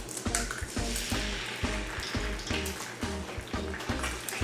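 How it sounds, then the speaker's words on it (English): An egg frying in hot oil for Hawaiian loco moco gives a steady, close sizzle with crackling spatter and intermittent soft pops throughout. "I heated some oil and now I'm going to fry my egg"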